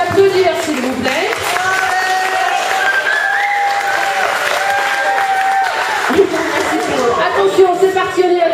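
Audience at a regional robotics competition clapping and cheering loudly for the teams, a dense sustained applause with whistles and shouts, chatter running underneath and an amplified voice cutting in near the end.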